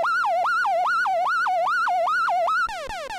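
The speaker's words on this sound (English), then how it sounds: "So MS-20 siren, some more MS-20." Korg MS-20 synthesizer siren effect: a loud, wailing tone swooping up and down in fast regular cycles, then sliding into rapid falling sweeps near the end.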